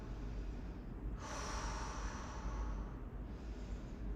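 Heavy breathing during a leg workout: one long, loud breath out through the mouth, close to the microphone, over steady background noise.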